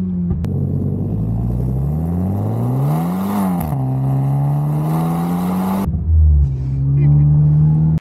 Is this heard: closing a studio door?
no